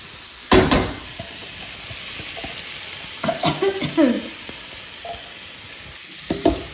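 Onions and chillies hit hot oil left in a home kitchen pan, giving a steady bright sizzle throughout, broken by scraping stirs, utensil knocks and a sharp clatter near the start.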